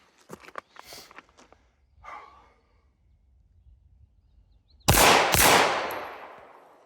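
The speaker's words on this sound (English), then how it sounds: "So you're basically shooting a pair of shots" Pistol shots fired in quick pairs during a doubles drill: scattered faint clicks and handling noise early on, then two loud, close shots in rapid succession followed by a ringing tail.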